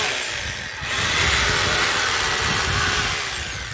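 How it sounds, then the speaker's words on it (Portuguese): A power drill bores into a concrete pillar nearby, its loud grinding whine rising after a brief lower start and holding steady before easing off, with no talk. "Agora eu vou acabar só de furar aqui."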